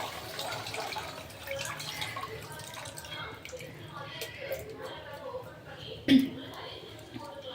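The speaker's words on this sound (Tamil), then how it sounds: "அந்த புளியை வந்து அதில் விட்டுக்கலாம்." Dissolved tamarind water poured into a simmering fish gravy, a soft trickling and dripping liquid sound running steadily under a voice talking nearby, with one brief louder splash or clink near the end.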